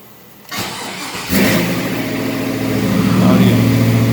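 Oldsmobile Cutlass four-door with a swapped 5.3 V8 cranks and fires on a cold start, catching abruptly into a loud, close, uneven idle that slightly misses a beat and builds a little.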